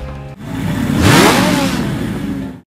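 A motorcycle engine in a Kamen Teacher scene climbs sharply in a loud, close rev, whining upward and then holding before cutting off abruptly.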